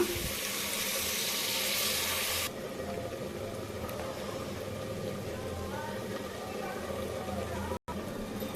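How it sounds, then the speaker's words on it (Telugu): Water pours in a steady rushing stream into a cooking pan of prawns for prawn biryani for a couple of seconds, then gives way to a quieter continuous background hum. "అడుగు మాడిపోకుండా కొంచెం వాటర్ పోస్తున్నా"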